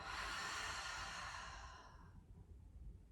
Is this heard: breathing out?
yes